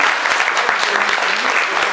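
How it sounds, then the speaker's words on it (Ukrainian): A KVN comedy contest audience claps loudly and continuously, a dense wall of applause filling the hall without a break. "Оплески! Оплески всім!"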